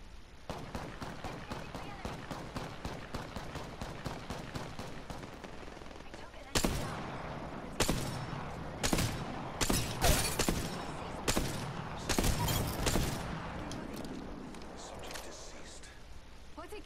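Gunfire from a nearby fight in a video game: a steady run of rapid automatic shots, then heavier, louder bursts and single cracks in uneven clusters, with speech-like sounds mixed in.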